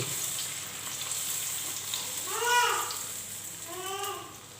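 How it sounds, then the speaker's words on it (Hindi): A bhatura deep-frying in a kadhai of hot oil makes a continuous sizzle that swells twice as the bread is pressed down to puff, with a faint tonal whine riding on the bubbling. "अब देखिए मैं ये अपना भटूरा कढ़ाई में डाल रही हूँ और इसको इस तरह से दबा दबा के फुलाते चले जाएंगे"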